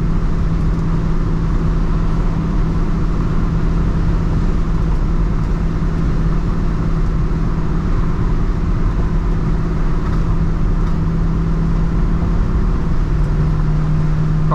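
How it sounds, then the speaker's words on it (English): A 1970 Chevrolet Nova Yenko tribute cruises down the road, its engine a steady, loud, continuous rumble heard from inside the car with no talking. "This car runs down the road very nice."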